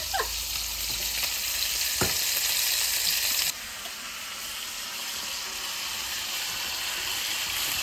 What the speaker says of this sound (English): Sounds good frying